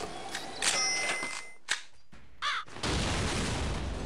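Crows caw in the video game Gravity Bone, a few harsh calls separated by sharp bangs and pauses, ending in a steady noisy wash.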